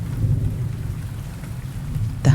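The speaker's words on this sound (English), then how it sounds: "The hum of an idling engine rises beneath the sound of rain." Steady rain pours with a low rumbling undertone of thunder, close and continuous, ending in a brief sharper rumble; a small gray car's idling engine hum may blend into the low roar.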